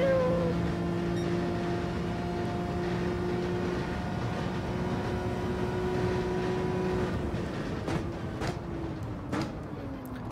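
A Gran Turismo 7 vision car engine in a racing video game, a sustained whining, meow-like tonal drone holding steady for several seconds before pitch shifts near the end, with no talk over it.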